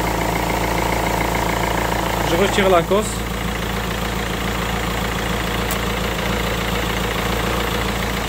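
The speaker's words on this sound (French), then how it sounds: "J'ai démarré le moteur." A steady diesel engine, a 1.6 HDi, idles throughout with a low, even rumble after an alternator repair, while someone speaks briefly over it near the start.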